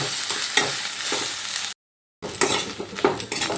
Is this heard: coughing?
no